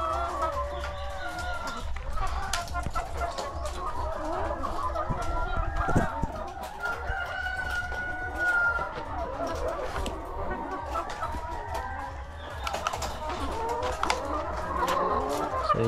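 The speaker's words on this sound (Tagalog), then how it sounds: "Ito yung mga layer chickens ko." Layer hens clucking steadily on a poultry farm, a dense chorus of overlapping clucks and squawks close by, with an occasional rooster-like call rising out of the flock.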